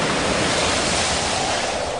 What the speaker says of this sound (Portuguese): começou a soprar um vento muito forte e as ondas arrebentavam com tanta força em cima do barco